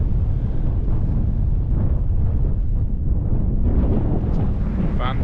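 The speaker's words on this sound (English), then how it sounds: "Wind's picked up." Strong wind gusts buffeting the microphone on an exposed sandstone crag at Long Crag in Thrunton Woods, Northumberland, a steady loud rumbling roar throughout with no pause.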